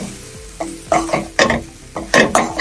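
Chicken liver frying in a pan with garam masala and coriander leaves, stirred in a series of sharp scraping strokes over a steady sizzle, close and loud with no talking.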